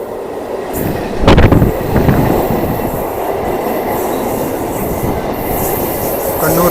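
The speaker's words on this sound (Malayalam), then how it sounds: "ഈ വരുന്ന ട്രെയിൻ നിങ്ങൾ കണ്ടോ, ഇതൊരു മെമു ആണ്, കണ്ണൂർ ഷൊർണൂർ മെമു" Kannur–Shoranur MEMU electric train pulling into Vadakara station, a loud, close, steady roar of wheels and motors with a sharp clank early on and faint squeals above.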